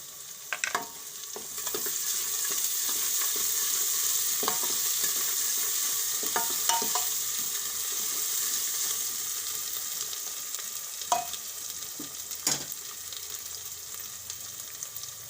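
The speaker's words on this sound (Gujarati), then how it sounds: "ડુંગળીને આપણે કડીક વાર સડવા દેવું હવે આપણે આ આદુ મરચાં નાખી દેવું" Onion, ginger and chillies sauté in a pan with a continuous sizzle, broken by sharp scraping clicks of a spoon stirring against the metal, with no talking.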